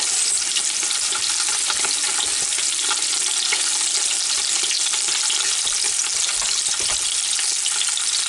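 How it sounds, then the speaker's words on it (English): A whole chicken sears breast-first in a Ninja Foodi Deluxe, giving a steady, loud, continuous sizzle of hot fat and crackling that holds unbroken throughout with no talk. "Oh yeah, that's searing up good right there now"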